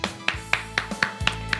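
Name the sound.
congregation applauding in church service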